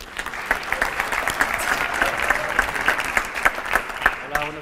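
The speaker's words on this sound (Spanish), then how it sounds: "Un fuerte aplauso para Arturo." An audience at a conference talk applauds steadily with dense, lively clapping throughout, fading out near the end.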